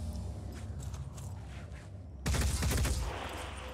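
Weapon fire in the tactical strategy game Phoenix Point, with faint clicks and mechanical noises before a loud, sudden burst of rapid shots near the end.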